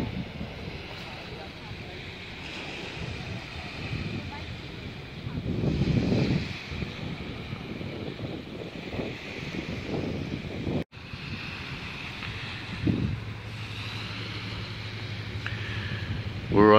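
Wind and lapping waves on a sandy beach along the Columbia River, a steady broad wash with gusts and buffeting, while a person talks over it partway through.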